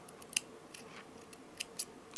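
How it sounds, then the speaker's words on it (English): Scissors snip through jewelry thread in several sharp, separate clicks, close and quiet in an otherwise still room. "And now, with the scissors, I will cut the thread"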